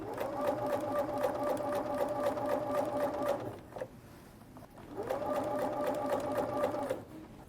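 A sewing machine stitching the bottom of a half apron runs in two steady bursts of fast, even needle chatter and motor whine, separated by a short pause, heard up close.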